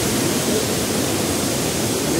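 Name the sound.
Bhivtas waterfall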